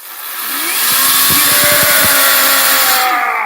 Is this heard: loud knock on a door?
no